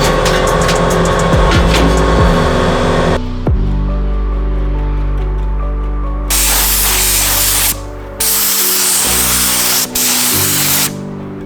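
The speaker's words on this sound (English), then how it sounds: "we got this grill all sprayed out, all fixed up, looking good." An aerosol spray can lays high build primer onto a Toyota FJ40 grill, loud close bursts of hissing spray in several long passes separated by brief pauses.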